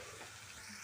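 Taro pieces frying in a pan, a brief, faint, steady sizzle with no talking.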